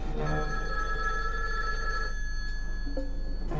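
A telephone bell rings steadily and close for several seconds, a sustained electronic ring that cuts off near the end with a brief click.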